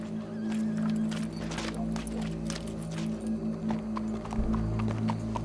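Horse hooves clip-clopping at a walk in the Red Dead Redemption 2 game world, a fairly close irregular beat over a low steady hum and ambient backdrop, with no talking.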